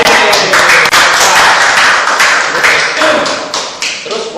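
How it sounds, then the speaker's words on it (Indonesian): Hands clap steadily and loudly for several seconds, a dense, continuous patter as a small group applauds at a fortune-teller's session, with some voices mixed in. "Tepuk tangan."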